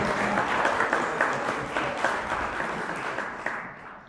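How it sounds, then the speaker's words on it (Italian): Warm applause from diners at an opera-swing dinner evening at Antica Tenuta Santa Teresa, honoring the maestro; the clapping stays full and even, then fades out near the end. "Applauso al maestro."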